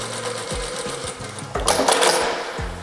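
A JACK A8 industrial sewing machine starts gently and stitches through thick padded material in short close bursts of rapid mechanical clatter, then runs a longer steady stretch before stopping.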